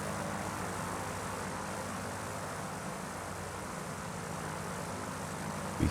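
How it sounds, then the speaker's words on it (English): Aircraft engine running steadily in the Kentucky Route Zero game, a continuous droning hum with a low rumbling throb that holds even throughout, fairly close and alone. "Sounds like the plane's working."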